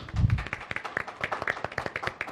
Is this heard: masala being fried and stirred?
no